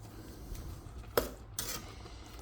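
A spoon mixes strawberries and sugar in a bowl, producing a few quiet scraping strokes against the bowl with short pauses between them.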